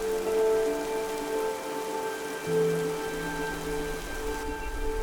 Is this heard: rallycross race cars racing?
no